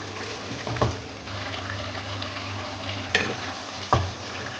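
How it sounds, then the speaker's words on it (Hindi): Chicken korma masala sautéed with yogurt keeps up a continuous moderate sizzle, broken by three distinct spoon scrapes or knocks against the pan, with no one talking. "अब इसको इसके दही के साथ भून लें।"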